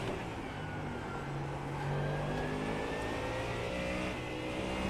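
Porsche GT3 race car engine in iRacing at The Bend, a steady loud drone with rising and falling pitch lines as it revs through gears, continuous and close without pauses.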